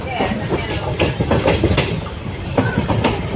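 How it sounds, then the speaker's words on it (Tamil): Train pulling into Nagore station near Nagapattinam, with a dense rumble of wagons and irregular wheel clatter sounding close and steady, joined by scattered clanks and faint background noise. "கரெக்டாக பதினொன்று ஆறுங்க நாகூர் வந்துருச்சு வண்டி"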